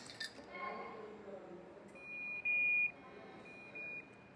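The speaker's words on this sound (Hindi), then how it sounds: "यहाँ पे MID इग्निशन ऑन करते हैं ना, तो सेम लाइक EVs यहाँ पे एक बजर या फिर एक साउंड भी आपको मिलेगा" Ignition-on buzzer from the instrument cluster of a 2026 TVS motorcycle (Apache RTR 160 2V or Raider), heard as a few short, steady electronic tones, the longest near the middle, over low background noise.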